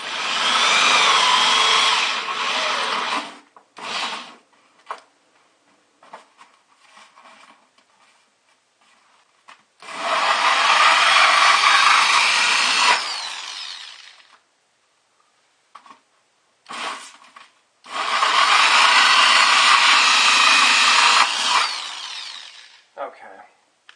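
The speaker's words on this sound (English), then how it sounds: "now I'm going to drill through the liner" Power drill boring through the foam liner of a 5-gallon bucket for a homemade air cooler, heard as three loud sustained whirring bursts of several seconds each, separated by brief quiet gaps with short clicks and handling noises.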